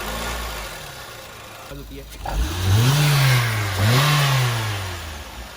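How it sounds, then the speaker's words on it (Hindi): A used car's engine cranks and catches, then revs up and down twice in smooth swells before settling, heard close with someone speaking briefly at the start. "हम स्टार्ट करते हैं गाड़ी के इंजन को।"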